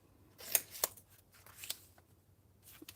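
Paper leaf shape being cut with scissors: a few quiet, sharp snips spaced apart, close up, with no talking.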